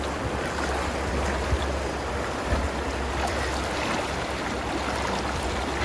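A clear river rushes past Idaho Springs, Colorado, in the Rocky Mountains, making a steady, dense, close-up wash of flowing water with no voices.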